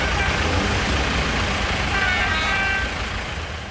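Tractors and traffic at a farmers' protest in Northern Ireland make a dense, steady low rumble of engines, with car and truck horns sounding faintly now and then through the constant road noise.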